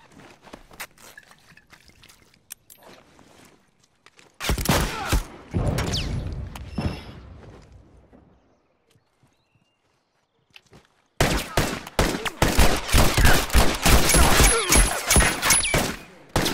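Enemy gunfire in The Last of Us Remastered comes in two dense, loud bursts of rapid shots separated by a quieter stretch, with faint game sounds in between.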